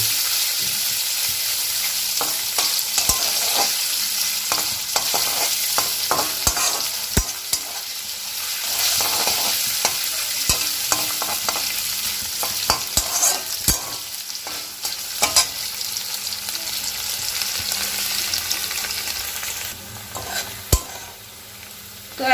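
Paneer frying in white oil crackles and sizzles steadily, broken by repeated sharp clinks and scrapes of a spatula turning the pieces, close and continuous with no speech.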